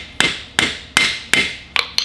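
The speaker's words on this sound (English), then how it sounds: "try to hammer a hole" A hammer strikes a screwdriver driven into the wheel seal of a cabover Peterbilt truck's rear wheel end: six sharp metallic blows in a steady rhythm, close and loud, with no talk.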